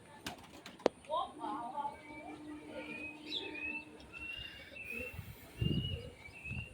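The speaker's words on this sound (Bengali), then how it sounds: "আমার পায়রাগুলো ছেড়ে দিয়েছিলাম" Pet pigeons cooing softly in rainy monsoon weather, with gentle chirps and a sharp knock early on, faint and intermittent against a low background.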